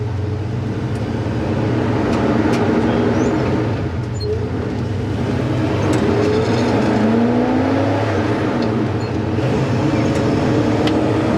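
A 1971 Chevrolet K-10 pickup truck pulls away in first gear, its engine a loud, steady drone heard from inside the cab that swells slightly as it gains speed, with no talking.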